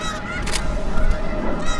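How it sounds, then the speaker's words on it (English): Thousands of geese honk together in a field, a dense, loud, continuous chorus of overlapping calls with a brief surge of noise midway. "That white is all geese."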